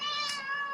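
A cat gives a single drawn-out meow, close and clear, with a bright tonal cry lasting under a second in a quiet indoor setting.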